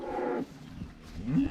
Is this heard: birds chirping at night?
no